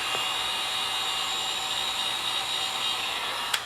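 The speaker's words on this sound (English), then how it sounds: "And just a quick dry like that with that heat gun." Steady broadband blowing hiss of a heat gun drying paint on a model kit, constant and fairly close, running throughout with a brief click near the end.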